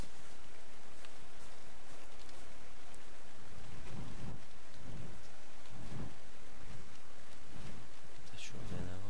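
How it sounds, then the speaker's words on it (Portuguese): Steady rain falling in a survival video game set outdoors, a dense continuous hiss with soft low rumbles pulsing through it, heard alone without talk. "Tá chovendo agora. Começou a chuva"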